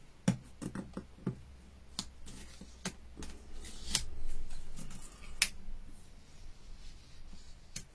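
Scissors snip paper for a Valentine's shaker card, producing a series of sharp, close cuts and crisp paper rustles spaced irregularly, with some handling noise between the snips.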